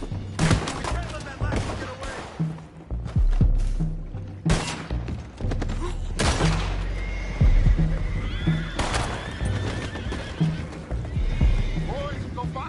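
Horses neigh and whinny in Red Dead Redemption 2 amid clattering hooves, gunfire-like bangs and a steady low hum, with game characters talking throughout.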